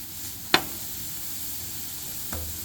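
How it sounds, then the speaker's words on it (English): Broccoli sizzles softly and steadily in a frying pan, with one sharp clack of a utensil near the start and a fainter knock later on. "we're gonna fry up some of that broccoli"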